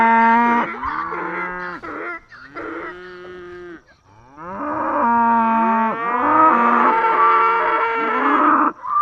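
Several cows moo loudly and repeatedly, long drawn-out calls overlapping one another close by, with a short pause in the middle.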